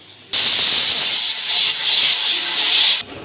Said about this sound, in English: Without knock, we should let the air come out.